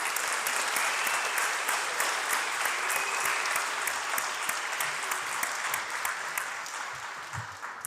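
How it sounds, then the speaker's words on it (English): An audience at an elementary school graduation claps steadily for about eight seconds, a dense, even wash of applause that tapers slightly toward the end. "How about a round of applause?"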